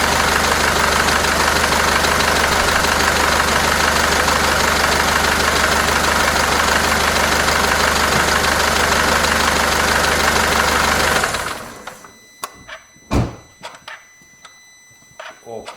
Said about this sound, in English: next step is to start my engine, that we can check those leaks